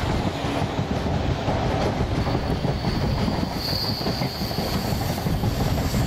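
A WAP4-hauled express train crossing in the MSTS train simulator, a loud continuous rumble of wheels and carriages with rhythmic clatter and a faint high squeal partway through.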